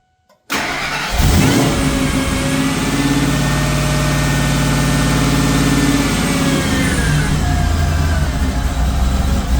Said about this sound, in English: truck fired up, seems to run okay